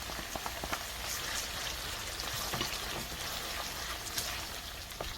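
Mustard seeds, garlic, turmeric and chili spices heating in oil for a green mango pickle: a steady, quiet sizzle and crackle with scattered small pops, close and continuous throughout.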